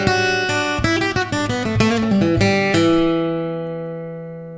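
Billy Strings plays an open E position lick on a Martin acoustic guitar, a quick run of clear picked single notes, close and bright, ending on a sustained ringing chord that slowly decays.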